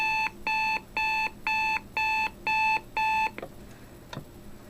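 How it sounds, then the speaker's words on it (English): A Sony Dream Machine ICF-C4W clock radio alarm beeps in seven evenly spaced bursts, each a steady electronic tone, then stops, followed by faint clicks. "it's a bog standard alarm sound"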